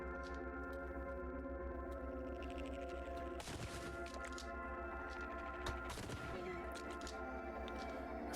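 Gunfire in the video game Caves of Qud, with two sharp, loud shot bursts, each with a crackling tail, over a steady hum of game music and no voices.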